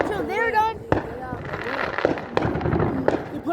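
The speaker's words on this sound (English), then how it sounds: "How many fireworks do they have?" Fireworks burst at night in a series of sharp, loud bangs at irregular intervals, with people talking and exclaiming throughout.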